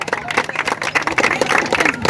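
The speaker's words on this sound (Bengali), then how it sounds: "আমরা তার জন্য কল করতালি" Applause from a crowd at a school inter-class football tournament, honoring a legendary local football player; steady clapping fills the short stretch, moderately loud with general crowd noise underneath.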